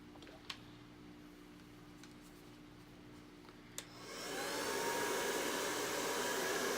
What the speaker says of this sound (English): let me hit it with a blow dryer because I don't want to mess anything up.